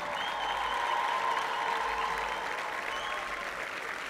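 A live concert audience keeps up sustained applause and cheering for a singer, a dense, even roar of clapping that holds steady throughout at moderate loudness.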